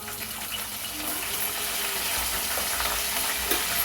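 Garlic, green chillies and curry leaves fry in hot oil for a dondakaya curry, giving a steady, close, hissing sizzle with faint crackles throughout.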